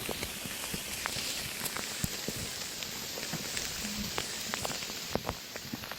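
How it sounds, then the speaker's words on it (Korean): Steady rain patters and hisses all around on a Hallasan mountain trail in Jeju, with scattered sharper drops tapping nearby surfaces and a faint low hum beneath. "이 빗소리 너무 좋지 않나요?"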